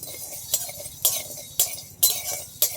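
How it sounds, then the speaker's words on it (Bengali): Whole cumin, coriander and black pepper dry-roasting in an empty metal wok, with five evenly spaced bright metallic scrapes and clinks of stirring over a faint background. "আর জিরে আর গোটা ধনে, এগুলো সব একসাথে খালি কড়াই ভেজে নেব।"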